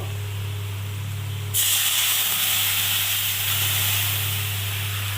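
Ground mustard, chili and cumin paste hits a hot frying pan of fried chili leaves for a village-style fish jhal, a sudden loud sizzle that keeps hissing steadily over a low electrical hum.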